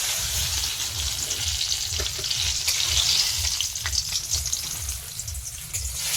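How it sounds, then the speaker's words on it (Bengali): Steady frying sizzle of eggplant in oil, a continuous crackling hiss with occasional sharper pops and a faint rhythmic stirring underneath. "কম তেলে বেগুন ভাজা"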